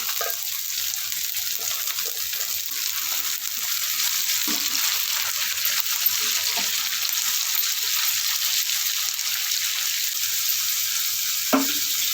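Boiled broad beans frying with onions in a pan, making a continuous bright sizzle with occasional stirring knocks, close and steady with no voices.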